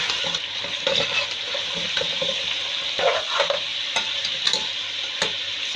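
Chicken frying in a pan for shahi korma, a close, steady sizzle with stirring scrapes and small spatula taps throughout.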